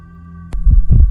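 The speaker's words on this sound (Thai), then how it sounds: "เสียงหัวใจกู" Heartbeat effect from a Minecraft horror mod, a single loud, deep double thump over a steady low electronic hum.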